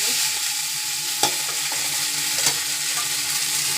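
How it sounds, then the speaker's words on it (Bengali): Boiled Maggi noodles are tipped into a hot pan and stir-fried for home-style chowmein, a steady close sizzle with a couple of sharp scraping knocks from the spatula, no voices. "এবার আমি ম্যাগিটা ঢেলে দেব।"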